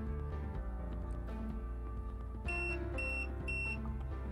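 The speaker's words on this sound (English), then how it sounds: "When the flashing stops, the lock will beep at you" A Schlage AD-400 electronic lock emits a series of three short, high-pitched beeps, evenly spaced, over a steady background hum.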